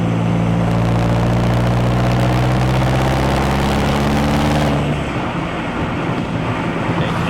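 A Volkswagen TDI turbo diesel wagon with a 6-speed gearbox and salvage title idles with a steady, loud low rumble and harmonic drone, its tone shifting and roughening near the end.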